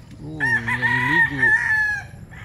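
An Allen Roundhead rooster crows once in a backyard chicken coop, a loud, close call that rises, holds and trails off over about two seconds.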